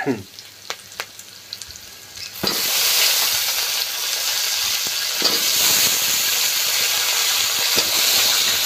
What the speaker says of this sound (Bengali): তেলটা হয়ে গিয়েছে, এবার আলুটা দিয়ে দেবো।